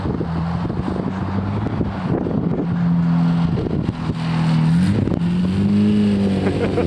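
Car engine revving through a homemade side-exit exhaust with a 90-degree bend and cherry bomb muffler, a steady rumbling drone that swells and climbs in pitch near the end, with wind buffeting the microphone.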